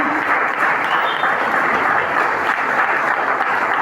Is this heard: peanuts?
no